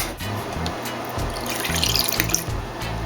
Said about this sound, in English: So I am just gonna take my measuring cup and pour a 1/4.